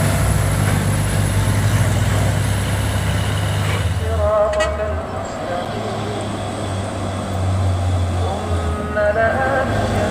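A Hino truck hauling a heavy 63-ton steel beam load labours nearby with a loud low diesel drone, dipping briefly midway with a brake hiss before the engine roar returns.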